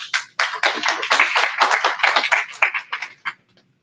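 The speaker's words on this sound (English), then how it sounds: "Let's give him a hand of applause." Audience applause at a panel on blockchain in oil and gas, government and finance, a brief burst of many hands clapping that swells quickly then thins out and fades after about three seconds.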